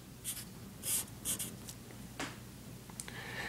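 Writing by hand, likely pen or marker on a board while working out a chemistry formula: a few scratchy strokes at irregular intervals, close and fairly faint over a steady background hiss.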